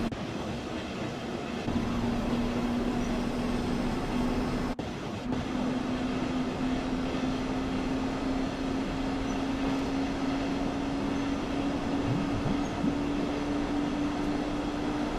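A train runs on the Hamburg–Lübeck main line in Train Sim World 2: a steady rolling rumble with a constant motor whine, continuous and even throughout, with no talking.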